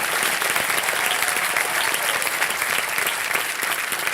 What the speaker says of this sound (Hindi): चलिए जोरदार तालियों के साथ let's welcome our new host of KBC